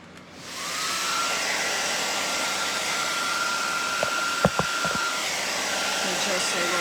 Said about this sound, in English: let me hit it with the dryer